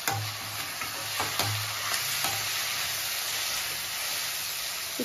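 Fried gobi (cauliflower) tossed into a street-food fried rice pan, with a steady sizzle and hiss and a few scraping stirs near the start, no talking.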